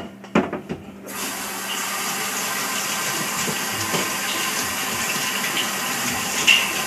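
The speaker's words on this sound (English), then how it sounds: "then I shoot the water up underneath with this hose" A hose sprays water up into an upside-down carboy during keg cleaning, starting with a few sharp clanks and then settling into a steady, loud hiss of gushing water.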